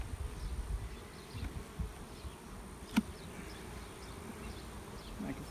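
A frame packed with bees gives a steady low buzz close up inside an open beehive, with no talk and one short knock partway through.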